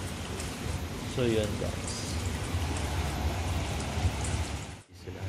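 Heavy rain falls steadily outdoors at a work site in Kuwait, a constant dense patter throughout, while someone speaks briefly over it.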